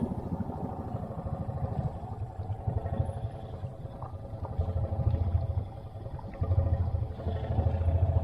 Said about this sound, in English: Oh yeah, it's idling very well.